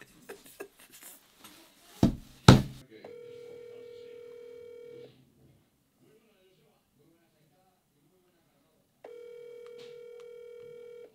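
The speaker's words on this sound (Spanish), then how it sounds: "Déjame volverlo a llamar." Phone ringback tone on an outgoing call, heard as two long steady ring bursts separated by silence, following a brief stretch of speech and handling noise near the start.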